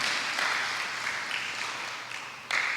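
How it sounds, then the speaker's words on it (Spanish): Moderate applause from a church congregation, steady and somewhat distant, swelling again near the end. "Amén, un aplauso."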